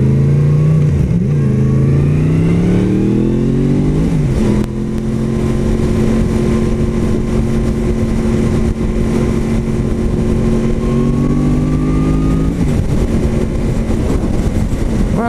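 Yamaha MT-10 motorcycle engine, about 160 horsepower with a six-speed gearbox, revving loudly up close: a throaty roar that climbs and falls in pitch through several revs, then holds a steady high drone before dropping again.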